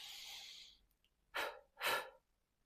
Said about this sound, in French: Inspire et expire 2 fois.